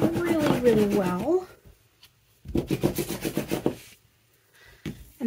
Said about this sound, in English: I'm going to burnish it down really, really well